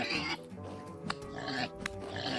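A boar or pig in the Vintage Story game grunting and oinking repeatedly at close range, several snorting calls broken by brief clicks and thuds, fairly quiet overall.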